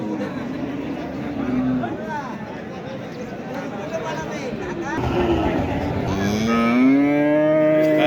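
A Sindhi breed cow moos several times, long drawn-out lowing calls rising near the end, with background chatter of a busy crowd at a cattle market.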